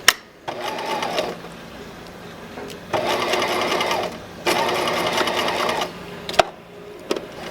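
A sewing machine stitching a lapped zipper runs in three bursts of steady whirring, each a second or more long, with pauses and small clicks between them.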